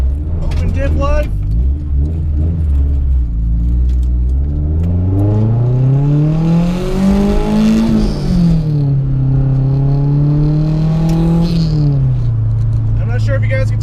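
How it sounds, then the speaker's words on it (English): A loud Nissan 240SX engine with an open differential revs up and down through the gears, rising in pitch, easing off, then climbing again, with a voice briefly over it. "I'm not sure if you guys can tell, but this car is noisy."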